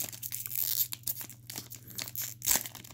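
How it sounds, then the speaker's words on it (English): A Japanese Pokémon Sun & Moon card booster pack being torn open, several close crinkly rips and crackles of foil wrapper in quick, uneven bursts with no talk. "Half the videos is me trying to open the damn packs."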